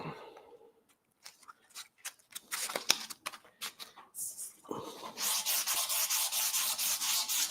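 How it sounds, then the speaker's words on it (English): Fine 400-grit sandpaper on a sanding block rubbing lightly across a board: short scattered strokes at first, then a steady run of quick, even back-and-forth scrapes, close and fairly quiet. "I'm holding this little sanding block"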